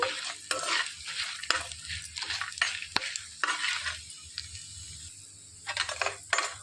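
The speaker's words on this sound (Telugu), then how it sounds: "సన్న సెగ మీద వేయించుకోవాలండి." Ingredients frying in a pan over low heat while being stirred, with scraping and clinking of a utensil against the pan, broad soft sizzle, and sharp taps scattered throughout.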